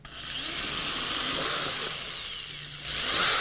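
Power drill boring holes into a plastic yogurt container: a steady, whining motor drone with a rough grinding edge, close and continuous, running alone for a few seconds.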